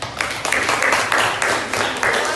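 A classroom of students claps for a winning group, a short loud patter of hands with distinct individual claps and a bit of speech mixed in.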